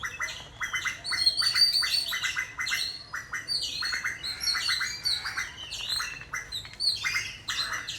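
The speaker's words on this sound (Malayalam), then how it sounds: "കിളിയും കാക്കയും എല്ലാവരും വന്നിരിക്കുന്നുണ്ട്." Birds and crows gathered and calling at a house in Kerala, loud repeated cawing and squawking bursts over scattered chirps, a busy close chorus with no talk.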